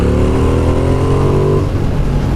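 A 2016 Ducati XDiavel S motorcycle in sport mode accelerates hard, its engine loud and close with a rising, rasping note that climbs steadily before easing slightly near the end, heard with no voices over it.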